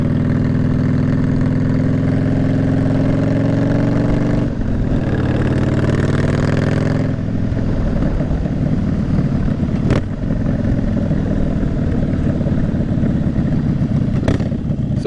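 Harley-Davidson Softail Slim V-twin rumbling throughout while riding, loud and close, with the engine pitch shifting as it slows and pulls up, a steady low throb with occasional brief clicks.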